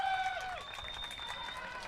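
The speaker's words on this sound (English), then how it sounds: "sends the crowd into a bit of a frenzy with that strikeout" Crowd at a Senior Little League baseball semi-final cheering and clapping after a strikeout, a steady, fairly loud wash of applause with some voices, filling the whole moment.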